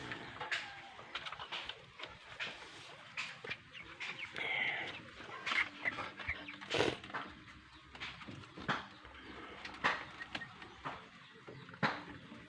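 Young broiler chickens, about 29 days old, cluck and peep in a pen with scattered calls and short bursts of birdsong-like chirps at close range, no speech.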